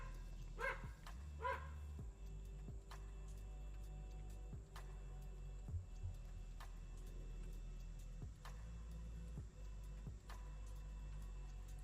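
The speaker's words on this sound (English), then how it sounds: "Sorry, I got my dog out here." Two quick, faint dog barks early on from a dog kept nearby during a live trading stream, followed by sparse clicks and ticking over a steady low hum, no speech.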